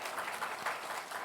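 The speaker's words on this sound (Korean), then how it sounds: "다 같이 박수 한번 치고 진행하도록 하겠습니다." A church congregation gives a short round of applause, a soft patter of many hands clapping together for about a second.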